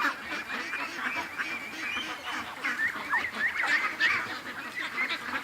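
A flock of geese and ducks at a swamp honking and quacking continuously, loud and close, many overlapping calls with no talking.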